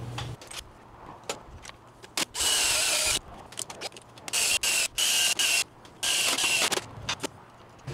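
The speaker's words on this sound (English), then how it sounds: "So I'm going to get all these holes drilled real quick." Power drill boring holes during a BMW Power Wheels ride-on motor build, heard as several loud, close bursts of a few seconds each with short pauses between them and no talk.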